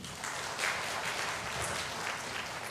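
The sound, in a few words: applause from an audience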